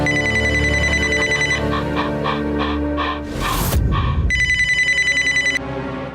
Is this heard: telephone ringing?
yes